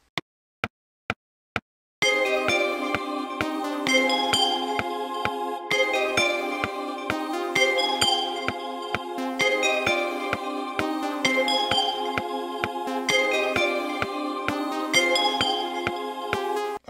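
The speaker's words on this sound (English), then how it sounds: "I found this bell inside of the good old Synth Master" Synth bell patch from the Synth Master plugin in a beat-making session: a few sparse plucked hits, then a bright repeating bell melody over steady rhythmic pulses, clear and upfront, with no voices.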